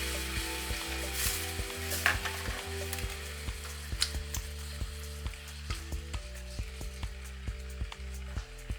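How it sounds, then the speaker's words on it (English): Marinated pork browning in a hot pan gives a steady, close sizzle with faint scrapes and stirring knocks throughout, with no talking. "dump the marinated meats in carefully. It smells so good already."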